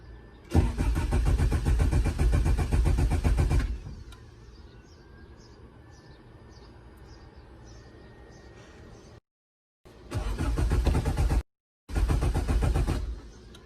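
Turbo LS VTEC Acura Integra engine being cranked without starting: a loud, steady starter churn for about three seconds, a quieter pause, then two more cranking bursts separated by silence, with no catch into running.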